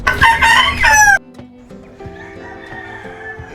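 A rooster, likely a fighting cock, crows loudly and close by for about a second in Kintamani village, Bali, Indonesia, followed by quieter ambient sounds and distant birds.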